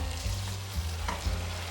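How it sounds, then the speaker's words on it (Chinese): Thickening sauce with cucumber being stirred as cornstarch slurry is poured in, a steady bubbling simmer with a couple of soft scraping strokes, close and moderate, no voices. "来调太白粉水，一面放一面搅拌"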